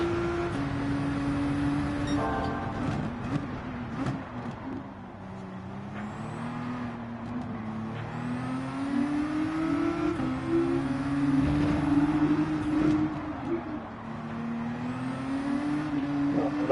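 Car engine in Gran Turismo 7, played on a racing wheel, drones steadily and loudly throughout, its pitch wavering up and down as the car accelerates, with no voices over it.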